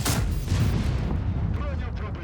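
A heavy tank cannon blast from a KV-2 in World of Tanks booms up close, followed by a rumbling decay and faint mechanical sounds.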